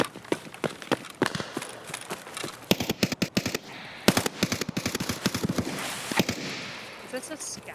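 Rapid gunfire from a Scav in the shooter game Escape From Tarkov crackles in dense bursts and single cracks over several seconds, moderately loud, with voices talking intermittently.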